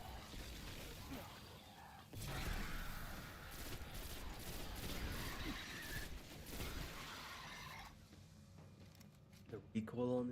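Sustained rapid gunfire from a weapon in the video game Destiny: The Taken King forms a dense, continuous crackling barrage of shots. It fades out near the end.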